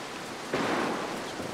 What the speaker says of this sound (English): just mind the thunder